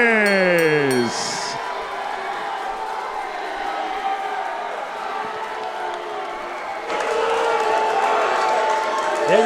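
The crowd at a Sony Hall boxing match reacts to a unanimous decision with sustained roaring and jeering. The noise swells and stays loud and dense throughout, and an announcer's voice rises over it at the start.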